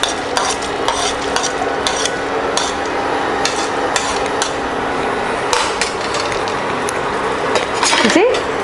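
Urad dal and chana dal sauté in a pan for beetroot poriyal, with repeated spatula scrapes and taps over a steady sizzle, close and fairly loud, and a brief voice near the end.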